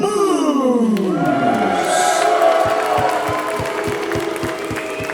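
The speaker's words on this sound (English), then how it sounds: "More positive crowd reaction than I was expecting from Moose." Live pro wrestling event crowd in Saint Louis cheering and applauding a heavyweight wrestler's entrance, a loud sustained roar of cheers and whoops with a falling siren-like entrance tone at first and a steady rhythmic thumping beat underneath.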